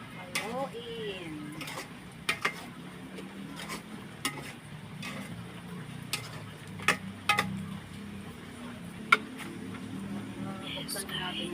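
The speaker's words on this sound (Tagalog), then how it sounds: "Haluin natin guys." Food being stirred in a cooking pan, with clicking scrapes of a utensil scattered irregularly over a low background hiss and faint sizzle, fairly quiet and close, with brief talk in between.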